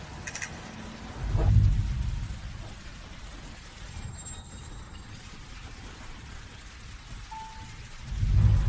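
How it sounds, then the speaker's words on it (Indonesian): Steady rain falls through a night storm as light drizzle turns heavy, with low rumbles of thunder rolling in twice, near the start and again at the end. "Malam ini hujan gerimis jadi hujan petir."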